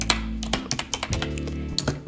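Fingers tap a computer keyboard in quick irregular bursts, about a dozen crisp close keystrokes with no talking.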